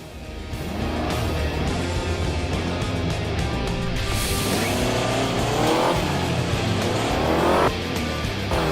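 A car in the Crash Time 5 driving game launches hard, its engine roaring loudly and climbing in pitch through repeated rev sweeps, with tire noise and rushing road sound, continuous and close.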